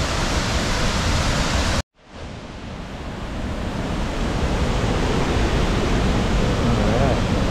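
Corlieu Falls, an 80-foot cascading waterfall near Yosemite's south gate, roars loudly and close in a dense, constant wash that drops out abruptly for a moment before swelling back to full strength.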